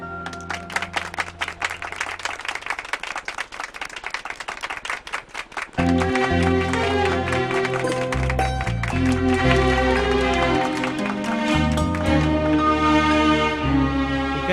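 Audience clapping for a couple, a dense crowd applause that is soon overtaken by loud swelling background music.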